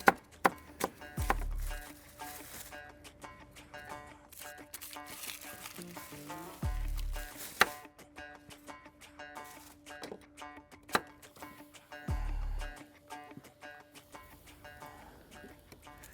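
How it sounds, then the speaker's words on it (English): Onion and garlic are chopped on a board at a winter campfire, with sharp, irregular knife taps and a few heavier thuds at intervals over a quiet background. "But I'll get this chopped up. I wanna fry up my onion, and I wanna fry up the garlic."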